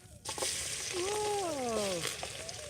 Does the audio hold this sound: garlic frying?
yes